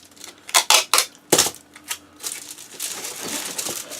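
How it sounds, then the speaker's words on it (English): Tape is pressed and smoothed down along the edge of a paint palette for acrylics, giving a handful of close, sharp taps and rubs early on, followed by softer, continuous rustling and scraping. "I'm going to tape this edge right here. Just like that, we'll tape that down."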